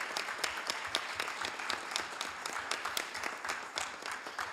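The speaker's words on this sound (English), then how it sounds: "let's give this a big round of applause" Sustained applause from a large audience at a Hayward City Council meeting after a Juneteenth proclamation, a dense, even roar of many hands clapping at moderate distance.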